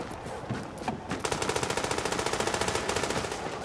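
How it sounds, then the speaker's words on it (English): Rapid automatic gunfire from Tom Clancy's The Division, a few scattered shots followed by a sustained, evenly spaced burst of loud machine-gun fire. "They are shooting at civilians."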